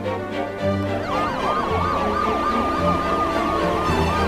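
An ambulance siren wails loudly and continuously, its rising and falling tones sweeping back and forth close by with no talk over it.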